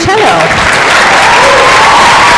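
Applause from a concert audience at a winter orchestra concert, steady and dense throughout with a voice speaking briefly over the start.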